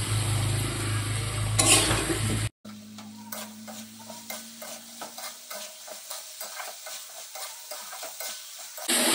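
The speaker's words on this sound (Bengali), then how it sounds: "প্রথমে আমি আলুগুলো দিয়ে দিচ্ছি।" Potatoes go into a spiced chicken curry masala and fry, starting with a loud sizzle. After a sudden cut, a softer sizzle continues beneath a regular series of scraping stirs in the pot.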